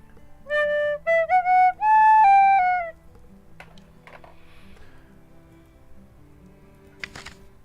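A dirty penny whistle, likely keyed in D, plays a short run of clear, bright, sustained notes up close for about three seconds, followed by quiet desk noises and a few faint clicks.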